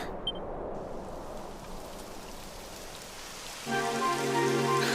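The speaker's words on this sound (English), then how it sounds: "It would have to go and start raining, wouldn't it?" Steady patter of rain hissing on surfaces in Dragon Quest XI, fairly soft and continuous, joined near the end by a sustained tonal hum.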